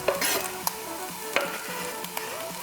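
Beef and pork mince with prosciutto, mushrooms and grated carrot sizzle in a pan, with soft steady frying under a few sharp scraping stirs of a utensil.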